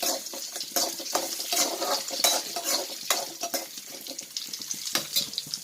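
Coconut, dried chillies, tomato and spices sauté in oil for a stingray fish theeyal, with a loud, steady sizzle broken by repeated close scraping stirs of a spoon in the pan.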